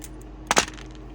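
A piece of wire snipped with cutters, a single sharp close metallic click with a faint tick after it, alone in quiet room tone.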